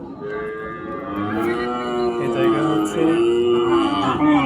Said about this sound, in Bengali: এই যে গাভীগুলো বাছুরগুলো দেখছেন